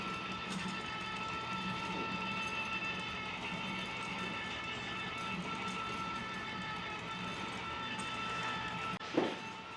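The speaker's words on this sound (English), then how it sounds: "Come aboard Barbie's Railroad." A model train runs on a layout inside an old museum building, giving a steady, continuous rolling hum with faint clicking throughout and a brief louder knock near the end, with no talking.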